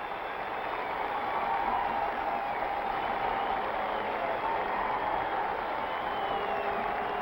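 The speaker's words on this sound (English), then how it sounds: "It's a standing ovation at the new Madison Square Garden." Steady roaring applause from a sellout crowd giving a standing ovation at Madison Square Garden during NBA Finals Game 7 between the Lakers and Knicks, a continuous wash of clapping and cheering heard at a distance.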